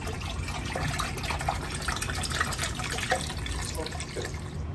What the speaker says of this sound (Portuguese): Agora você vai colocar água